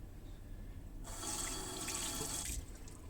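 Warm water running from a tap into a shaving bowl, a steady splashing stream that starts about a third of the way in, holds for a second and a half, then stops, heard close with no talk.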